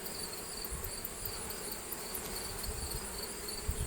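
Honey bees in an open hive during a brood frame inspection give a steady, dense insect hum throughout, close and continuous with no talk.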